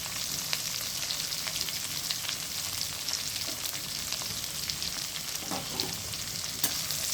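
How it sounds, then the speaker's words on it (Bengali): Onion and garlic frying in a pan make a steady, close, crackling sizzle with faint stirring taps, heard alone with no talking. "এবার পেঁয়াজ আর রসুনটা আমি ভালো করে ভেজে নেব।"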